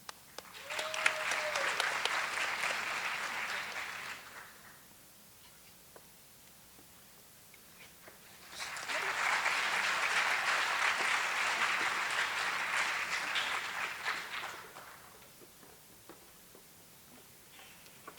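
Audience applause for students at a school district celebration of excellence: two long bursts of dense clapping from a sizable crowd, each lasting several seconds, separated by a quieter pause with faint room noise.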